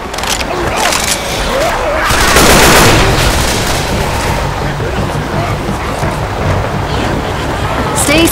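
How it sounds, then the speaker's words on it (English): Gunfire crossfire in a Left 4 Dead style zombie shooter, a dense continuous rattle of shots and booms filling the scene while a voice talks over the din. "Oh, I think we're in a crossfire here."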